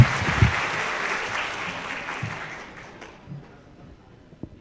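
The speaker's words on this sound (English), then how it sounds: "big applause tadi caranya tepuk tangan" An audience at a lecture claps, loud and dense at first, then gradually thinning and fading to a few scattered claps before near silence.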